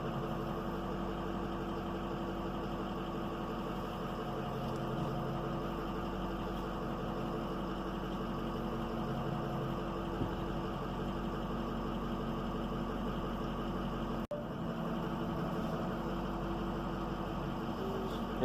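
A truck backs up to a roll-off dumpster on a trailer, its engine holding a steady, low, continuous idle rumble, with a single brief click near the end.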